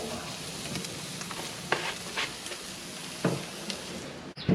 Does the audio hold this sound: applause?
no